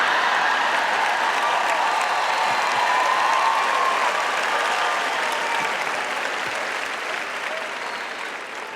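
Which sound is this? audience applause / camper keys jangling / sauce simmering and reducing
audience applause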